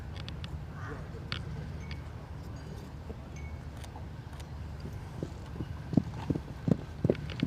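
Horses trot on firm ground at a horse trials trot-up, the hoofbeats growing into distinct, evenly spaced clip-clops toward the end over quiet outdoor ambience with faint birds.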